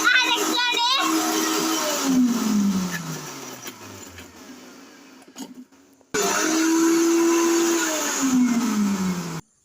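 A mixer grinder crushing curry leaves, green chilies and dried red chilies runs in loud whirring bursts that wind down, stop briefly, then start again, with a short voice at the start.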